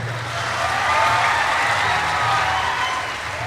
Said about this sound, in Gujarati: કીર્તિભાઈને જોરદાર તાળીઓના ગડારથી વધાવો